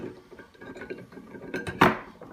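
Plastic and metal parts of a Welock smart door lock knock and click together as the middle section is pushed into place, a run of small close taps ending in one sharper clack.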